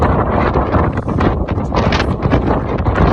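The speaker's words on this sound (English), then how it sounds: "Sorry, it's getting really windy here." Strong wind buffeting the microphone in a steady, roaring rush with gusty swells, no other sounds standing out.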